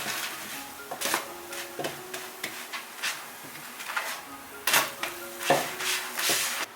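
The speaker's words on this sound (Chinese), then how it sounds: "多翻几次面，把2面都煎到金黄。" A sweet glutinous rice crepe, a Cantonese snack, pan-fries in oil and is flipped repeatedly until golden on both sides. A spoon scrapes and clinks against the metal pan in scattered bursts over a soft, low sizzle.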